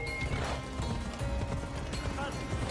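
A horse gallops in Assassin's Creed Odyssey, with rapid muffled hoofbeats over a dense game soundtrack and ambience, fairly soft and continuous for a few seconds.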